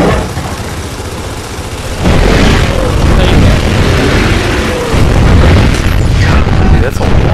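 A rocket launcher blast in the video game Gears of War 3 lands as a loud, broad boom that swells and rumbles for several seconds, with gunfire and game noise around it and a player talking.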